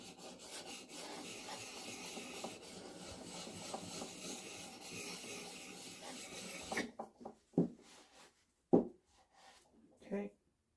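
A steel chisel is rubbed flat back and forth on a coarse sharpening stone in steady rasping strokes for several seconds, then stops, followed by a few short scraping knocks and handling sounds.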